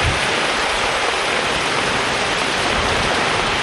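Heavy monsoon rain falls with strong wind in Tamil Nadu, a dense, steady, loud wash of rain noise that continues unbroken throughout with no voices.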